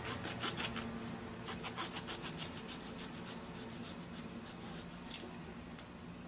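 A knife slices through a lemon on a cutting surface, making a series of soft, close scraping strokes in a quick, uneven rhythm with no voices.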